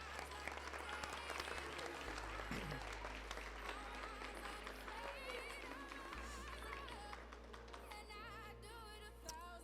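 An audience at a 7th grade school awards assembly gives scholars steady, sustained applause, many hands clapping together under a low hum, with some voices mixed in.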